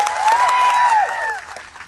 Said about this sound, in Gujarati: એ ડેડિયાપાડા અને સાગબારાની જનતા માટે એકવાર જોરદાર તાળીઓ પાડી લો